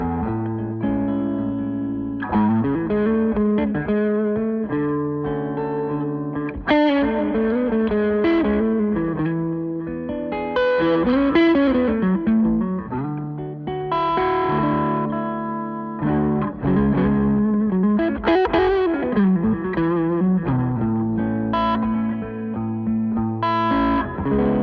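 Crazy Tube Circuits guitar pedal in mode 1 on an electric guitar through a clean amplifier: a continuous, loud run of sustained distorted chords and single notes, with effect-colored tone and some reverb, no talking.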